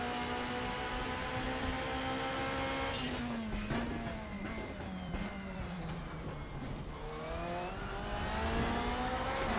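A BMW race car in RaceRoom, the ranked multiplayer racing game, with its engine droning and shifting pitch as it brakes and accelerates through gears, tires squealing briefly, under steady road and wind noise.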